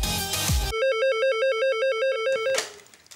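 A telephone rings with a bright electronic warbling tone that alternates rapidly for about two seconds, loud and close, preceded and followed by brief unrelated sounds.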